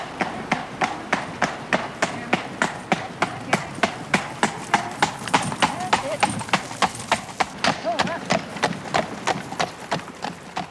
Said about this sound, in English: 4 horses pulling it.